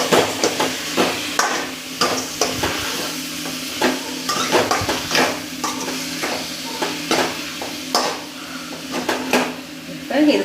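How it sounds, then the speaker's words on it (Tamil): Chicken being stirred in a pan for a cumin-seasoned salt chicken, with repeated scraping and clattering strokes of a utensil against the metal over a soft sizzle, close and fairly loud throughout. "சிக்கனை இதில் சேர்த்துட்டு நல்லா இதில் கலந்துக்கணும்."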